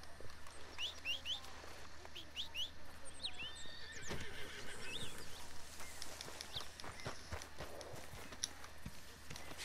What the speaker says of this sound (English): I accidentally punched my horse.